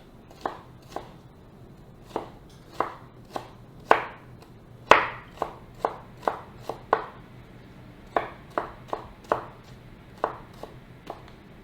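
Knife chopping red onion on a board at a home kitchen counter while making gyro, about twenty crisp, close strikes in an uneven rhythm with short pauses, alone without talk.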